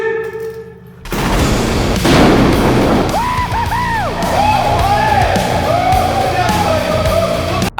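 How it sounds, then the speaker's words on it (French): A pyrotechnic charge bursts with a sudden loud blast during an outdoor airsoft game, immediately followed by a crowd of players whooping and yelling over lingering noise. "je vous l'avais dit que ça allait péter"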